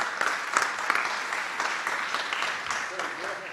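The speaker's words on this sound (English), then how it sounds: "A big applause for Silvia, please." Audience applause for a presenter at a digital health startup summit session, a steady mass of clapping hands with a few sharper claps, alongside speech.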